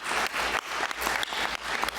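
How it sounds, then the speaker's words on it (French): An audience applauds Daniel Charles at a French talk on water sports and motorboating, a dense, steady wash of clapping with slight swells, fairly loud and continuous for two seconds. "Je propose qu'on applaudisse Daniel Charles."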